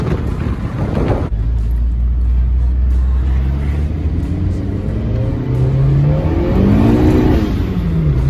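A turbocharged 1987 Acura Integra with a heavy-duty street race clutch pulls hard, its engine note droning low and rising steadily in pitch as it accelerates, loud and close inside the cabin under heavy wind buffeting.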